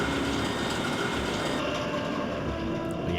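A moving train in Star Wars: Shadows of the Empire makes a loud, continuous rumble with rattling wagons and a metallic rail clatter throughout, and the high hiss thins partway through.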